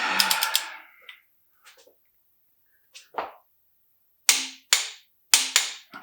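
Sharp mechanical clicks come in small clusters with pauses between them, a ratcheting wrench tightening crankshaft bolts close by on an LS 5.3 stroker engine build, with no voices.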